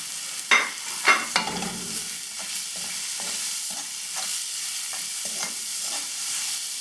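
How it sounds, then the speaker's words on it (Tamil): Grated carrot, beans, green chilli and curry leaves sauté in a pan, with a soft continuous sizzle broken by a few sharp spoon scrapes and stirring clacks close by. "கேரட்டு, பீன்ஸு, பச்சை மிளகாய், கருவேப்பிலை இது எல்லாத்தையுமே சேர்த்து இதை வந்து கொஞ்சம் வதங்குற அளவுக்கு விட்டுட்டு ஆஃப் பண்ணிடுவோம்."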